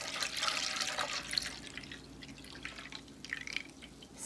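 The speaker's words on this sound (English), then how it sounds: "We're gonna put 3 cups of whole milk in a heavy saucepan." Whole milk pours into a heavy saucepan, a soft liquid splash and trickle that is loudest at first and then fades into faint dripping.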